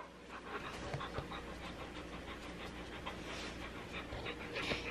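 Excited dogs panting rapidly and steadily at close range, with faint whimpering and a low engine or car hum in the background.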